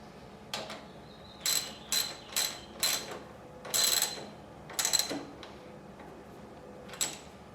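Ratchet wrench tightening the brake retaining bolt on a Suzuki GS550 cafe racer: a string of short, close ratcheting click bursts with brief pauses between strokes, then a final lone burst, with no talk.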